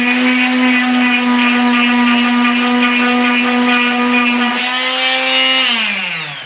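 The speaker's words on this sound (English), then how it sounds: "Just a light sanding to make it look a little bit nicer is all you need for this particular project." A power sander runs on a woodworking project piece with a loud steady motor whine and hum, then spins down in pitch at the end.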